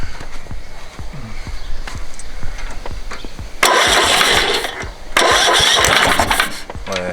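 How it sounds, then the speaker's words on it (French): A riding lawn mower's starter motor with a weak, worn-out battery cranks the engine in two loud, close bursts of about a second and a half each, over a rumbling, ticking background. "On va voir si le démarreur il fait bien son boulot là tel que c'est avec sa batterie pourrie"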